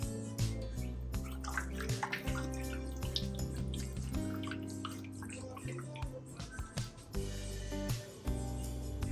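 Orange cold process soap batter is poured into a mould in thick, wet, splattering bursts, with a low background hum and uneven pulses of liquid noise.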